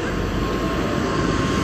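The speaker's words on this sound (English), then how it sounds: "A small propeller plane." A small propeller plane at Coron Airport in Palawan, Philippines, makes a steady, loud, broadband engine roar that stays even and close throughout, with no talking.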